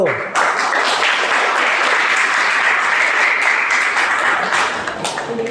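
Group 1 gets a round of applause in a classroom during a teacher performance assessment, loud dense clapping from many hands that starts abruptly, holds steady and begins to thin near the end.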